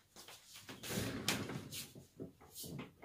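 A dresser drawer in a little girl's bedroom slides and knocks as children's clothes are put away, giving several scraping and thudding bursts over a few seconds, close by with no talk.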